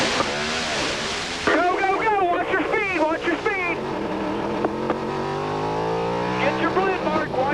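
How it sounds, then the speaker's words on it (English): An IRL race car's rev limiter cuts in on the pit lane at the 1997 Las Vegas race, a loud, close engine note with rising and falling harmonic sweeps and stuttering cuts, under announcer commentary. "You can hear the rev limiter cut in, the cruise control to keep him from over speeding that limit down there in the pits"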